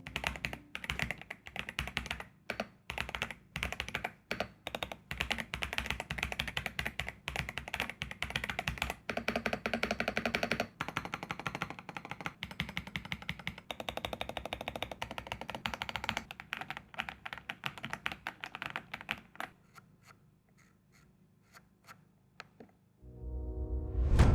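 Rapid, steady typing on a full-size premium gaming keyboard with magnetic switches, a SteelSeries Apex Pro, heard up close as dense clattering keystrokes for about twenty seconds, then trailing off into near silence with a final thump.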